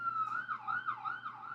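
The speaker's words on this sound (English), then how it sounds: "we got some sirens" An emergency siren wails in a steady rising and falling sweep, distant and faint under the quiet background hum of a room, with no voices.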